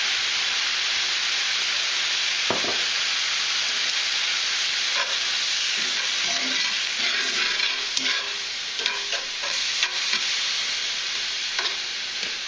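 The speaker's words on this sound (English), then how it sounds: "We're going to throw in just a little bit more white wine." White wine sizzles and steams in a hot cooking pan while salmon cooks, a steady loud hiss throughout with faint stirring scrapes and clicks.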